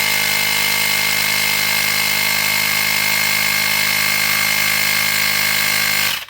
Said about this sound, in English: you can see it pumps up